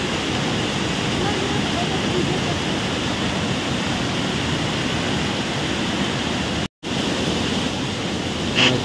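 The Kailash Gumpha waterfall in Jashpur, Chhattisgarh, roars in a loud, constant rush of falling water that fills the whole clip without letup.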